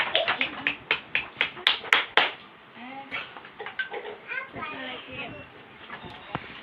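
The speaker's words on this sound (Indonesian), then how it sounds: "Ayo tepuk tangan." A class of hairdressing students claps in a brisk, even rhythm for a classmate, about a dozen sharp claps close by, then the clapping loosens into scattered claps under children's chatter and voices.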